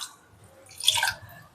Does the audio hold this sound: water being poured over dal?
yes